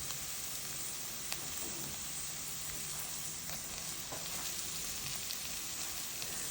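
Peppers fry in a hot pan as a pizza topping, giving a steady, even sizzle with faint scattered pops. The sound is continuous and fairly quiet throughout, with no voices.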